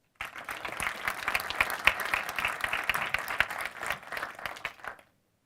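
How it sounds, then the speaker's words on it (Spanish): Conference audience applauding a speaker at a Magento developer event in Spain, dense clapping that starts abruptly, holds steady for about five seconds and then cuts off. "Os pido que le deis un fuerte aplauso para ellos"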